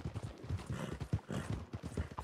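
Horse hooves clip-clop at a steady trotting rhythm through the Red Dead Redemption 2 game world, loud and close, a continuous pattern of hoofbeats with no talking over them.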